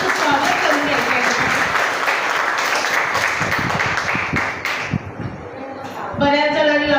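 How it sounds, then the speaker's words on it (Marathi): Vigorous applause from a gathering of women fills the room, a thick steady clapping that fades out near the end before a voice starts speaking over the room. "एकदा सगळ्यांनी आपापल्यासाठी जोरदार अशा टाळ्या वाजवायच्या"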